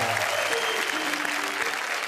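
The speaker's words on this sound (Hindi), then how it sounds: "ये सारी तालियां मुझे काका जी की वजह से मिल रही हैं" A crowd applauds at a Hindi poetry show, a continuous loud wash of clapping throughout, with faint tonal hum or background voices beneath.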